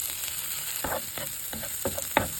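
Garlic sautéing in oil in a pan, a close steady sizzle with several quick scraping stir strokes and a light clink, no talk.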